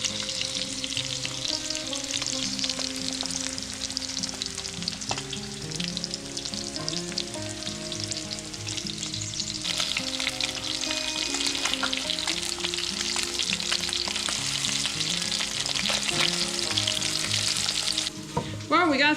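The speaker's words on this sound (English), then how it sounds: "we're gonna fry it on the stove top" Walleye fish fries in a pan on a stove top, giving a steady, loud, crackling sizzle with frequent sharp pops and spatters that continue without pause, with no talking.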